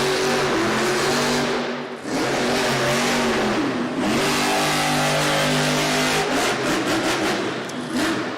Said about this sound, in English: Matt Cody in Gravedigger looking for racing win number 7